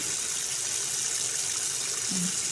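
Hot water pours steadily from a tap into a kitchen sink for washing dishes, a constant hissing gush that stays even throughout, with no voices.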